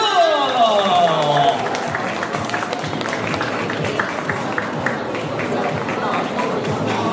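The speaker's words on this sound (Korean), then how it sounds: "박수!" A crowd applauds at a fan meeting in a department store, dense clapping that swells and continues steadily for several seconds, with a voice briefly audible at the start.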